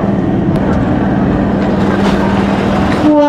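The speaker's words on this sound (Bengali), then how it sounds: "আমাদের ট্রেন একদম ঠিক টাইম মতো এসে পৌঁছলো এই বর্ধমান স্টেশন" A passenger train pulls into Bardhaman station in West Bengal, heard from on board as a loud, steady rumble and rattle of wheels on track with a low droning tone throughout.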